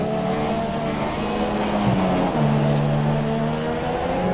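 A Formula Dragster race car in an F2 racing video game, viewed in spectator mode on a Singapore street circuit. Its engine drones loud and steady at high revs, with a gear change around the middle and no voices.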